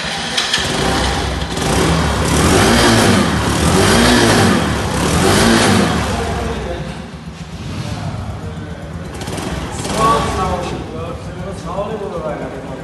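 A Runner Sky 110cc motorcycle engine revs up close and loud, rising and falling through a couple of throttle blips with a brief drop toward idle in between.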